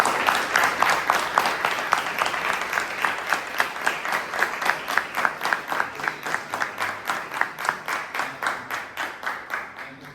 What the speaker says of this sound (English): please give Srinivas a big round of applause